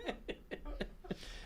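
Five short, evenly spaced coughs, close and moderately loud, followed by a brief breathy exhale.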